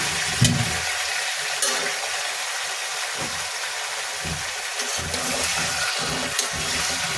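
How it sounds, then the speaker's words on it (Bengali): Drained beef for nihari goes into a pot and cooks, giving a dense steady sizzle with scattered low thumps and clatters of the meat and utensils, close and continuous, with no voices. "এই মাংসটা আমি পানি ঝরিয়ে রেখেছিলাম স্টিনারে। এখন আমি দিয়ে দিচ্ছি।"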